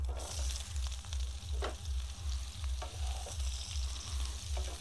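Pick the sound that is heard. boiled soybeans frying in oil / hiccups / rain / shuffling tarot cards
boiled soybeans frying in oil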